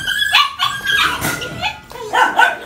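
A male tiger-brindle Phu Quoc puppy barks and yips in quick high-pitched bursts, close and loud, with a whiny edge between barks and no talk over it.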